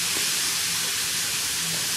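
Sliced zucchini sizzles in a hot frying pan, a steady, dense hiss like steam that holds evenly through the two seconds with no talk.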